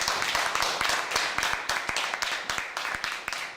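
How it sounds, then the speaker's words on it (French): An audience at a press briefing of a Senegalese community group in Côte d'Ivoire claps steadily, many hands making a dense, sustained patter of applause at moderate distance. "Et je vous demande de l'applaudir."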